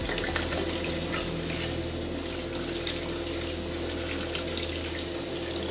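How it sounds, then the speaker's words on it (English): Tap water runs steadily over rice in a bowl at a kitchen sink, a constant close splashing stream with no pauses and no talking. "I'm just going to continue to run water over the rice until I see that it's running clear."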